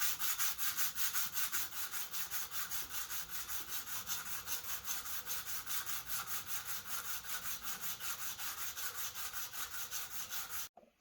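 Wood being hand-sanded with 180 grit sandpaper: a steady rhythmic scratching, about three strokes a second, close and even, continuing without a break before stopping abruptly at the end.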